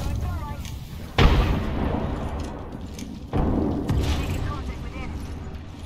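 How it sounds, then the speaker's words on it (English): Frag grenade blasts in Apex Legends, two sharp booming explosions about two seconds apart over continuous gunfire and game noise, with players talking throughout. "Frag out."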